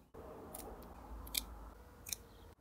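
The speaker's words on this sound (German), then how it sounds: "Zum Schluss den überstehenden Faden ganz einfach mit einer Schere kürzen." Scissors snip off the excess thread on a PVC privacy screen, with a few crisp, quiet cuts spaced apart in a near, quiet setting.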